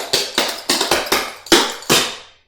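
Clogging taps for crimp and Burton steps strike the floor as six sharp, close, percussive hits in a quick uneven rhythm. Each hit rings briefly before the next.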